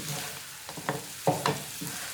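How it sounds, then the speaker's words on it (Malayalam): Tawa chicken fries over a low flame, a steady soft sizzle broken by several scraping stirs of a spatula against the pan, close and moderately loud with no talking. "ലോ ഫ്ലെയിമിൽ ഇട്ടിട്ട് ഇതുപോലെ നമുക്ക് നന്നായിട്ടൊന്ന് ഫ്രൈ ചെയ്തെടുക്കണം."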